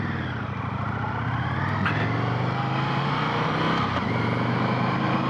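An Indian FTR 1200 Rally motorcycle rides at speed, its engine droning steadily and close, with a few brief shifts in pitch.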